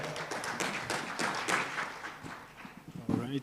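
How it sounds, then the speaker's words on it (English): An audience at an international quality tourism conference gives a speaker a round of applause, scattered claps ringing out in a large room and fading into a few distinct taps. "Let's give a round of applause to Mr."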